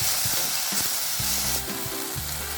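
Tomatoes and mixed vegetables fry in a pan, making a steady, close sizzle throughout, broken by occasional stirring scrapes and clinks.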